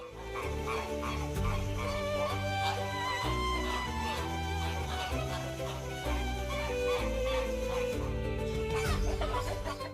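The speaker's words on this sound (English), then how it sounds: "Chicken." A chicken clucks repeatedly in short, rhythmic bursts, fairly close and clear, layered over steady background music.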